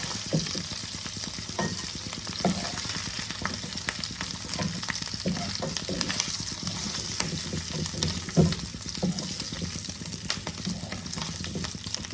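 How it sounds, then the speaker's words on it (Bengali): Lote (Bombay duck) dry fish fry in hot oil, a dense, steady sizzle with frequent crackles and spits running throughout, close and fairly loud, with no talking. "লোটে মাছগুলো দেখো আমার ভাজা হয়ে গেছে"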